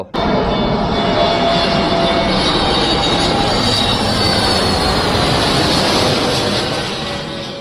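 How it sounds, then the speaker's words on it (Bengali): An airliner passes overhead near Dhaka airport at Uttara, its jet engines producing a loud, sustained roar that holds steady and then begins to fade toward the end, with no talking. "আসতে না আসতে আরেকটি বিমান আকাশে দেখা গেল"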